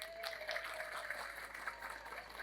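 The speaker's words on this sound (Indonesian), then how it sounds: "Tepuk tangan." An audience at a large Islamic religious gathering in Banyubiru gives a soft, steady round of applause, distant and diffuse, with scattered claps blending into a continuous wash.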